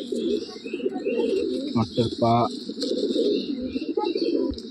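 Giribaj pigeons coo continuously in a low, rolling murmur close by, with someone speaking briefly over them and some clicking handling noise in the middle.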